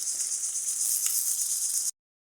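Spices for a fish curry frying in hot oil in a village kitchen pan, a steady, close, bright sizzle with no talk until it cuts off abruptly.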